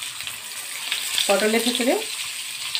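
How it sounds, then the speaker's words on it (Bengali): Halved pointed gourds (potol) fry in hot oil for potoler dorma, giving a steady, bright sizzling hiss throughout, with a brief spoken phrase over it. "এটাকে হাফ করে ভেজে নেব।"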